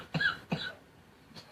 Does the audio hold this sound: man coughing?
yes